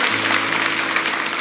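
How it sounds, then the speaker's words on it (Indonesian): Church congregation clapping during a worship sermon, a dense steady patter of many hands filling the room at even loudness, with a low sustained hum beneath. "Yang percaya berikan tepuk tangan ya Tuhan."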